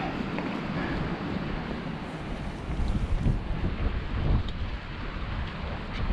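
Wind roars across the microphone at a hiking-trail overlook in a continuous low rush, swelling into stronger gusts midway before settling back.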